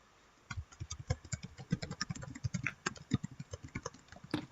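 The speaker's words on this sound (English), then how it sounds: "We can hear you typing." Rapid, irregular clicking of keys on a computer keyboard, close and fairly quiet, with no voices.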